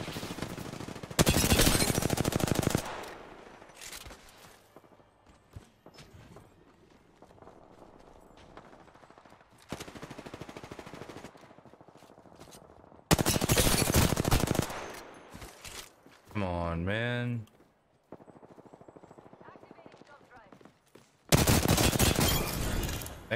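Gunfire from a video game shooter erupts in several long, loud automatic bursts separated by quieter pauses with faint footsteps and game noises, plus one sweeping electronic effect, and no talking.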